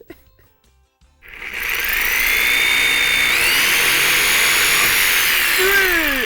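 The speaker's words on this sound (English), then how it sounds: "That's my jigsaw cutting out the dowel length." A jigsaw cuts a wooden dowel to length for a plate rack, starting after a quiet second and then buzzing loud, steady and close, its pitch shifting slightly as the blade works through.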